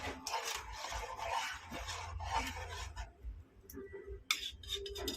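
Small-fish curry stirred in a cooking pot, steady rubbing and scraping strokes of a ladle against the pot, close and continuous with a sharper knock near the end.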